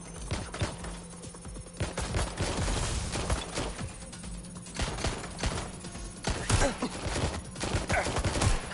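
Gunfire in the Watch Dogs Legion game, with dense, irregular rattling bursts of shots and impacts running throughout over a continuous low hum of game ambience.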